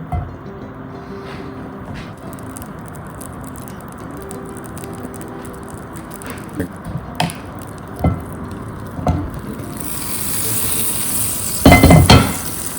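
Butter sizzling in a pan before asparagus goes in for a backyard spring breakfast, with a soft steady crackle and occasional utensil clicks and knocks, then a louder hiss surging near the end.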